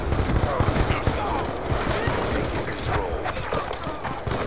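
Rapid automatic gunfire in the video game Black Ops II, dense bursts of shots with thuds, heard close and continuous alongside a player talking.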